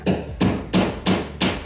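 Five sharp hammer blows land at a steady rhythm, each a crisp knock with a short ringing tail, close and clear with no talking.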